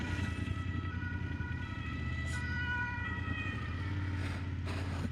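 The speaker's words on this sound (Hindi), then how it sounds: "कहाँ से आ रही है एम्बुलेंस?" An ambulance siren wails steadily over loud, constant traffic rumble on a street in Germany, its tone holding and shifting throughout, fairly close by.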